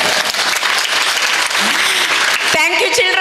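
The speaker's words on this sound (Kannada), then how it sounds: "ಎಲ್ಲರಿಗೊಂದು ದೊಡ್ಡ ಕೈ ಚಪ್ಪಾಳೆ" An audience at a children's Yakshagana training centre performance gives a big round of applause, dense continuous clapping that carries to the end, where a voice begins speaking over it.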